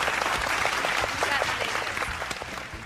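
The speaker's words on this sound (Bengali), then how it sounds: "সো একবার জোরে হাততালি দিয়ে দিই আপনাদের উদ্দেশ্যে" An audience on a televised cooking competition claps for the top six contestants, a dense burst of applause that stays even and loud, then thins slightly at the end.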